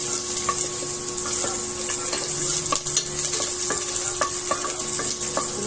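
Garlic frying in hot oil for a salmon belly sinigang, a steady sizzle under repeated clinks and scrapes of a utensil stirring in the pan.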